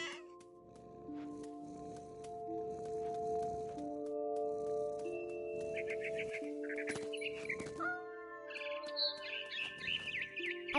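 Birds chirp and call in the What Remains of Edith Finch video game, with a bright scattering of tweets and trills rising over a steady tonal background and sparse, faint clicks.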